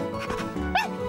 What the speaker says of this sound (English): Oh, what a bonny wee doggy.